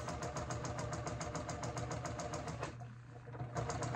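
A sewing machine stitches apron fabric around a curve, its needle chattering in a fast, steady rhythm at close range, pausing briefly before resuming.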